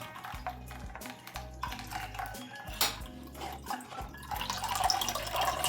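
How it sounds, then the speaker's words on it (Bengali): Watermelon juice is strained through a sieve with a spoon in the kitchen, producing trickling liquid, drips and clinks of metal utensils against a bowl, moderately close and without talk. "আর একটা করে নিয়েছি এটাও আমি এর মধ্যে ছেঁকে নেবো"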